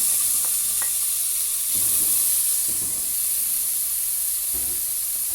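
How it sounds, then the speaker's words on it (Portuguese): Bacon, about 300 grams, fries steadily in a pot as the start of feijão tropeiro, giving a continuous close sizzle and crackle with occasional soft stirring scrapes and no talking. "Eu vou deixar dar uma fritadinha nesse bacon, vou deixar fritar bem fritinho."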